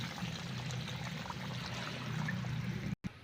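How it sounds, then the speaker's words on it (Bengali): Water pours into a pot of Bengali mutton curry with green chillies, a steady low splashing stream that lasts about three seconds before stopping abruptly. "এবার এর মধ্যে আমি পরিমাণ মতো জল দিয়ে দিচ্ছি।"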